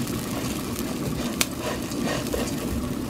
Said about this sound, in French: notre marmite est en train de bouillir